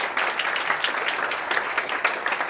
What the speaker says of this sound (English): So please, a big round of applause for all of them.